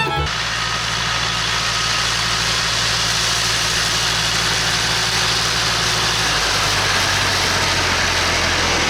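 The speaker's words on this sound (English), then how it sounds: "So it's time to get the mower out and do hay." Tractor engine running steadily while pulling a mower through a hay field, a loud continuous low drone with constant mechanical hum that barely changes throughout.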